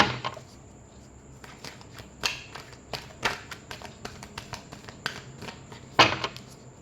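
Tarot cards are shuffled close up, with a run of crisp riffling taps and flicks that come in irregular bursts, some louder than others, and no speech.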